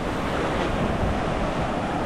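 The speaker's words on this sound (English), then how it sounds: "It's a little bit windy." Wind buffets the microphone over a steady wash of sea waves on a beach in Panaji, Goa, continuous and fairly loud with no talking.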